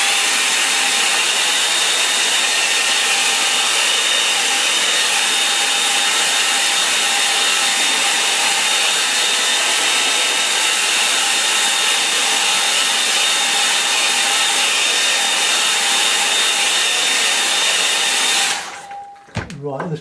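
A hair dryer blows steadily and loudly at close range over a watercolour painting for a long stretch, then switches off abruptly near the end, with no talking.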